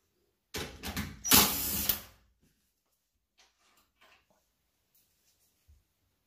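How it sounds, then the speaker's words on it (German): A cordless power screwdriver whirs for about a second and a half, backing out a screw on the top cover of a Bosch Siemens tumble dryer, followed by faint clicks and handling noises in a quiet room. "So, wir öffnen hier oben links und rechts die Schrauben,"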